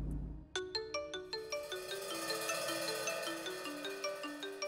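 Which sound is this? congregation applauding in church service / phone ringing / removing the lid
phone ringing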